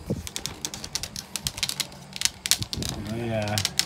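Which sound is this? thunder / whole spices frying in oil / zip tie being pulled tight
zip tie being pulled tight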